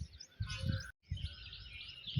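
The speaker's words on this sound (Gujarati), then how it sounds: "ચકલીને બોલો, ખરેખર બહુ મજા આવે" Sparrows chirp in a village outdoors, a busy stream of small tweets spread across the clip with a brief drop to silence near the middle, moderately loud against low background rumble.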